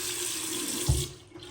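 A hotel bathroom sink faucet runs water in a steady, close hiss that lasts most of the moment and then eases off.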